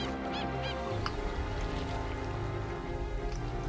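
Migratory wading birds on a New Zealand summer shoreline, giving a few short chirping calls early on over a steady, soft background wash.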